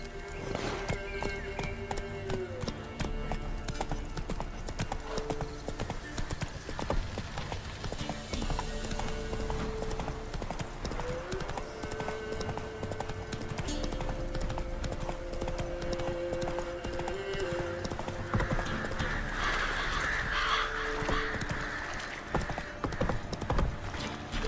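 A horse trotting in The Witcher 3, with a steady rhythmic clip-clop of hooves throughout, set against a musical drone and occasional ambient game sounds.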